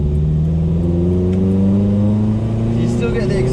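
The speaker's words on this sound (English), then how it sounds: "You still get the exhaust when you slowly get onto it." A Mitsubishi Sigma Lancer fitted with sound deadening pulls away gently, its exhaust drone rising smoothly and steadily in pitch under road noise inside the cabin, with a person talking over it.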